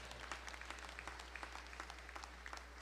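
A church congregation at a Sunday morning service applauds, with quick, faint, uneven claps in a steady patter over a constant low electrical hum.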